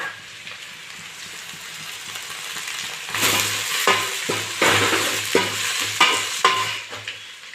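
Onions and tomatoes frying and being stirred in a pan for a hill crab gravy. A steady sizzle runs throughout, and from midway it gets louder, with repeated scraping strokes of the spoon falling at an uneven rhythm.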